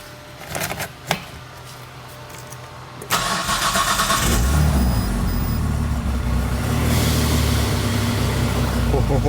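A Nissan R34 Skyline cranks briefly with a couple of sharp clicks, then catches and fires into a loud, steady, somewhat rough idle with revs rising, close by and alone.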